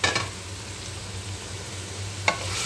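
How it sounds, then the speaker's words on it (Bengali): Close pan frying of chicken breast, a moderate even sizzle over low hum, with a spatula knock at the start and another sharp tap near the end, no voices. "মুরগির মাংসটা আমার কষানো হয়ে গেছে।"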